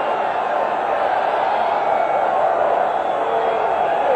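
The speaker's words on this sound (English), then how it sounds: "Crowd really getting into it here in Morgantown." Football stadium crowd at a Virginia Tech vs West Virginia game in Morgantown, a steady, loud roar of many voices sustained throughout without breaks.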